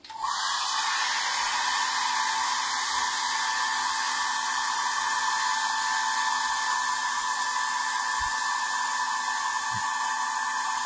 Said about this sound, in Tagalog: Kaya meron tayong hair blower.